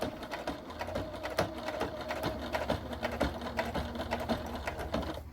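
A domestic Deco sewing machine set to 3.5 mm stitch length runs steadily, top stitching a thick fabric wallet with card slots and a zipper, a continuous close mechanical whir with rapid needle clatter and no talk.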